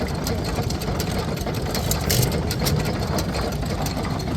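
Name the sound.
vintage engine running at engine rally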